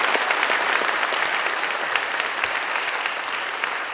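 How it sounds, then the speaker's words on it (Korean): A congregation at a 2014 revival prayer gathering gives warm applause to welcome a pastor to the pulpit. Thick, continuous clapping from a large crowd runs evenly throughout, with no talking over it. "우리 한 목사님 나오실 때 뜨겁게 박수로 한번 환영합니다"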